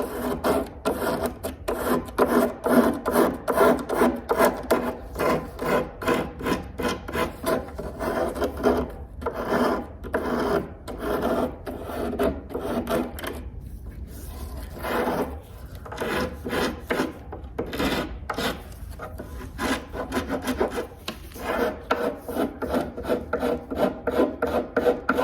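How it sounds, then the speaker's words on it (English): A metal file rasps along the edge of a mahogany corner cabinet in steady, rhythmic back-and-forth strokes, close and clear, with no talk. "And then I like to use a file to just hit the edge. And grind it right off."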